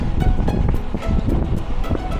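Strong wind roaring across the microphone during a road-cycling climb, loud and continuous with choppy gusts, with no voices.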